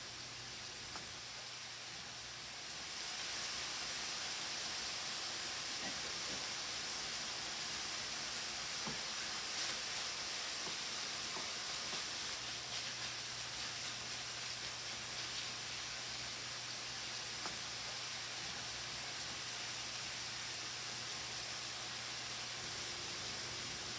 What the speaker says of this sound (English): The bacon is really cooking nicely